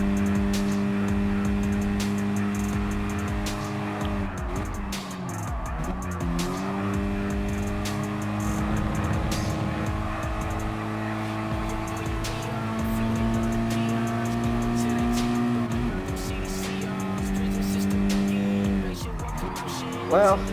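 Mazda Roadster race cars in Gran Turismo Sport's intermediate Roadster Cup, engines droning and rising through gear changes with tire squeal, loud and continuous while a commentator talks over them.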